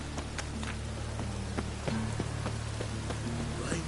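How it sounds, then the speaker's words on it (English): Steady rain patters in The Witcher 3: Wild Hunt over a low background hum, with scattered louder droplet taps throughout. "Rain was coming."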